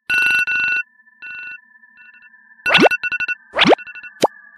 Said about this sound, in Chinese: 后来我手机的闹钟响了